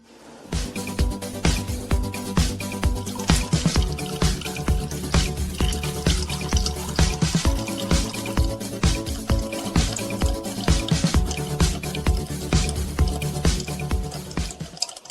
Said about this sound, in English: we will drain the oil from this container